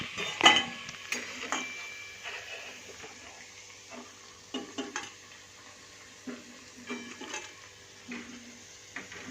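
Fried cabbage kofta are lifted from the oil into a separate vessel, giving scattered light clinks and scrapes of a metal utensil over a soft, faint sizzle.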